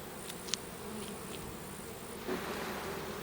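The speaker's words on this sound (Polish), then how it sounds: "zrzucić pszczoły, Pamiętajcie, pszczoły lądują miękko, nic się im nie dzieje" Honey bees buzzing as they are shaken off a hive frame while a beehive is being arranged, a steady low hum with a few brief sharper buzzes near the start.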